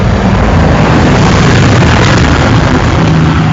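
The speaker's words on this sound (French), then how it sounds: "Je laisse passer le tracteur." A tractor passes close by outdoors, a loud, continuous engine rumble with heavy low-end roar and rough wind-like noise throughout, no speech.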